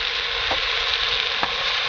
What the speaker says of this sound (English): So into our pot we're going to add 2 tablespoons of soy sauce